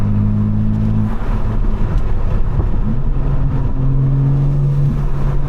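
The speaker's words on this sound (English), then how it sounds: "I hope y'all can hear the freaking intakes." A tuned 750 hp BMW G82 accelerates with a loud, steady intake and engine roar that shifts pitch as it pulls, heard close up from inside the car.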